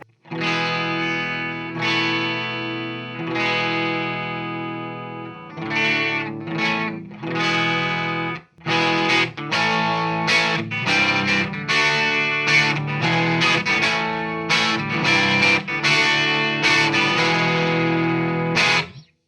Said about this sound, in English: I've got a clean tone in channel 2 on this Marshall amp,